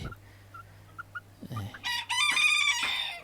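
A young male Benjarong-colored bantam chicken, two to three months old, clucks softly a few times and then lets out a loud, close, strained crow that trails off near the end.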